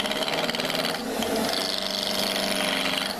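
A lathe turns a small square blank of cherry wood, about three quarters of an inch across, into a round top stem, giving a steady dense whirring scrape that runs without a break.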